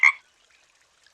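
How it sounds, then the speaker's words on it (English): A single short frog croak, close and fairly loud, followed by near silence. "A frog hopped in and said,"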